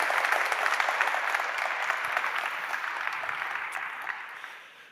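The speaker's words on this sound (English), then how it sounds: "So just a round of applause," Audience at a web performance conference applauding the organisers, a steady broadband wash of clapping that holds for several seconds and then fades out at the end.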